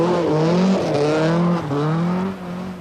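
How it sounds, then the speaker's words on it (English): A rally car engine running rough at the 1980 Welsh Rally revs and drops in uneven surges, its rasping tone wavering and stumbling rather than pulling smoothly, loud and close. "his engine sounds far from perfect"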